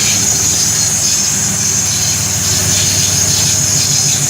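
A failing wheel bearing on a vehicle being pulled forward makes a loud, continuous grinding roar with a steady high-pitched whine riding over it. The noise is close and unbroken, with no talking.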